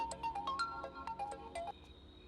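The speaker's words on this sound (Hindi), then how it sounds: "वानी का फोन है।" A melodic electronic ringtone chimes in a quick sequence of bright tones, fairly quiet, then breaks off, leaving a faint hum.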